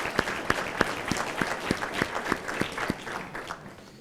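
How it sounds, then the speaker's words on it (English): Scattered, fairly slow hand claps from a small audience at a Veterans Day keynote, honoring military family members; the claps come singly and rhythmically, then thin out at the end. "And I think we should give you a hand of applause."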